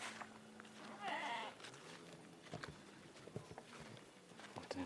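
Goats bleating near a goat shed in a rural village, a few short calls at moderate distance over faint outdoor background noise, with no clear speech.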